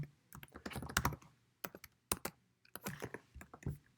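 Someone types on a computer keyboard while editing code, with close, crisp key clicks in uneven bursts and short pauses between them.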